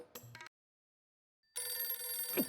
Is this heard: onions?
no